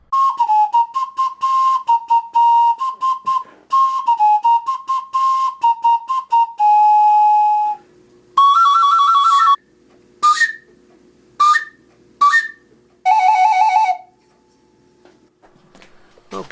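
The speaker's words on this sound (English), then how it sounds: "let's make a wooden whistle" A homemade wooden three-note whistle blown in a run of short chirping bursts and longer held tones, shifting between pitches with little gaps, close and loud with no talking.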